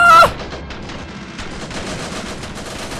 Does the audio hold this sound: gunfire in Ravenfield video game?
yes